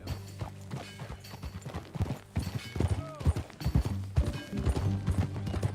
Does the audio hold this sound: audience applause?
no